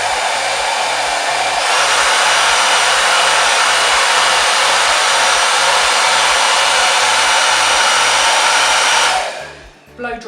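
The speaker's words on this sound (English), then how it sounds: "Blow dry it down." A handheld hair dryer blows steadily and loudly through nearly the whole stretch as hair is brushed at the roots and dried down, its continuous roar cutting out abruptly near the end.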